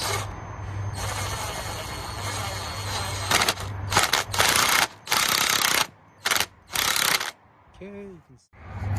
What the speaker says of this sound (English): I used a ratchet wrench to slowly get back to the markings